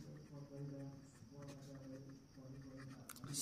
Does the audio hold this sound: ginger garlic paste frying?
no